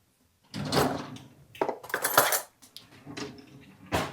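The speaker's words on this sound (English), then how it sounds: "Let me grab a fork here." A fork is grabbed with a rattle of cutlery, then whisked through egg, salt and honey in a bowl, giving close, bright clinking and scraping bursts against the bowl in a home kitchen.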